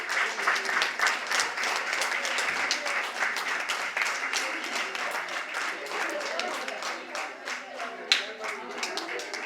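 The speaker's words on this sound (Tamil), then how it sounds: "கரகோஷம் பத்தாதுன்னு நினைக்கிறேன்." Dense, steady audience applause fills a book launch event presenting sixteen Tamil books, with many hands clapping together at close range for the whole stretch.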